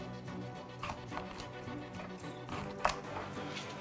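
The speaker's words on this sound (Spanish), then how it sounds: "sigo picando esto" Food chopped on a cutting board while a chicken dish is prepared in a home kitchen: steady knife taps that blend into kitchen clatter, with one sharper knock near the end.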